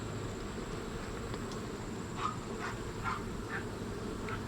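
Honeybees hum steadily around an open hive during an inspection, a dense, faint buzzing drone with a few brief louder passes close by.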